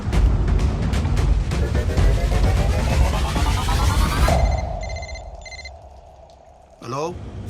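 A telephone rings loudly in repeated electronic bursts amid busy noise in a movie scene, then cuts off to quiet with a brief tone near the end.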